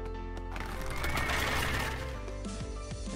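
Horse in the strategy game 0 A.D., tied to a horse-drawn cart unit, gives a loud whinny over dense game ambience and steady background tones, with no talk.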